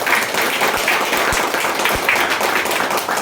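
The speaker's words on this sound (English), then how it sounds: "So with a big thunderous round of applause, let's call the first speaker" A room of people at a Toastmasters Pongal celebration meeting gives a round of applause for the first debate speaker, with steady dense clapping throughout and a few low thumps.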